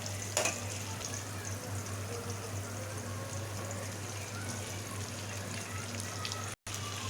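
Sweet corn kernels tipped into a pan of softened capsicum and chillies, then stirred, for a Punjabi dhaba-style corn capsicum masala; steady close frying hiss throughout, with a brief scrape near the start and a short dropout near the end.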